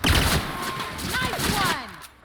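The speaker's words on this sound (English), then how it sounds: "Opening fire!" A short volley of gunfire in the PC game The Outer Worlds, loud opening shots then a busy clatter of combat, with character voices calling out over it.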